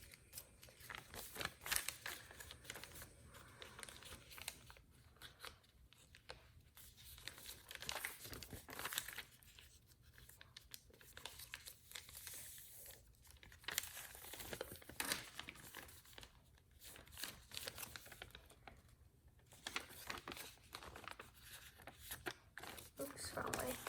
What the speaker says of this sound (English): just preliminary fold this here